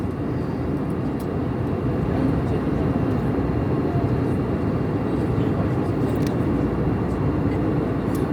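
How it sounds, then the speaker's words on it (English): Cabin of an RNA airliner on descent, engines throttled back to a steady low roar that holds evenly throughout, broadband and constant with no voices. "So they have now slowed the engines down to reduce some speed"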